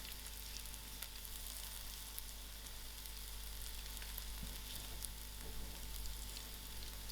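Green chilies with chili powder, dhania powder and turmeric frying in a pan for tomato rice, a steady broadband sizzle that holds at an even level throughout, with no voices.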